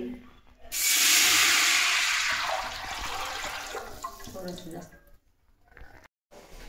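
Water is poured from a measuring pot into an oil-coated cooking pot: a loud, close rushing pour of about three seconds that gradually thins and trickles out, with faint voices afterward.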